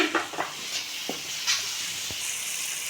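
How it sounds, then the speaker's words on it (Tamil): Onion, tomato and curry leaves frying in oil in a pan, a steady close sizzle broken by a few sharp scraping stirs and spoon clicks, with no voices. "இப்போ வெங்காயம் தக்காளி எல்லாம் வெந்து எண்ணெய் பிரிஞ்சு வந்துச்சு பாருங்கள்"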